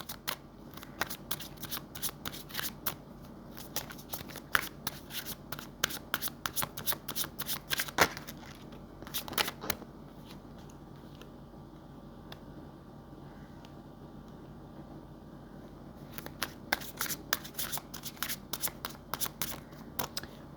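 Tarot cards being shuffled by hand in repeated bursts of crisp riffling and flicking, close and clear, with a quieter pause in the middle before the shuffling resumes.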